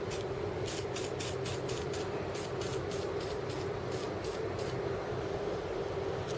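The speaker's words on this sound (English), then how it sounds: "Because it's so gungy, I'll whack it with some WD-40." Aerosol WD-40 sprayed onto a grimy motorcycle clutch cable from a Kawasaki ZZR, heard as about a dozen short, close hissing bursts in quick succession with no talk.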